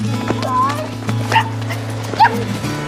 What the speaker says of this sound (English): Can you hear the barking?